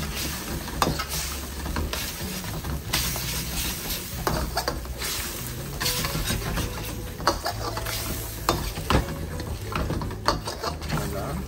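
Chilli chicken with coriander gets stirred in a pan: repeated sharp scrapes and clatters of a spoon over a low sizzle, irregular and close.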